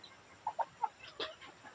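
A few soft, short clucks from chickens, three quick calls then a brief squawk, fairly faint over a quiet outdoor background.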